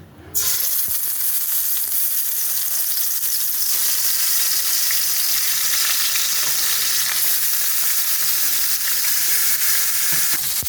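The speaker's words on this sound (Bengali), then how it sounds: "কড়াইতে তেলটাও আমার গরম হয়ে গেছে তেল রেডি একদম আমি মাছগুলো আস্তে আস্তে ছেড়ে দেব" Salt-and-turmeric-rubbed fish pieces fry in hot oil in a wok, giving a loud, steady, close sizzle after a brief quieter start. The crackle continues unbroken with no voices.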